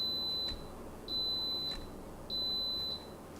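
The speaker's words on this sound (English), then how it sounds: "The Instant Pot is now beeping." An Instant Pot gives three electronic beeps, each a steady high tone about half a second long, repeating at a regular pace over quiet background hum.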